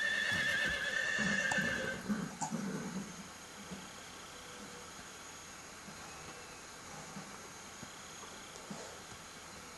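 A horse whinnies loudly over clip-clopping hooves for a couple of seconds in the video game Metal Gear Solid 3, then a low steady hum carries on alone.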